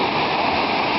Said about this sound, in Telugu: పైనుంచి నీళ్ళు పడుతున్నాయి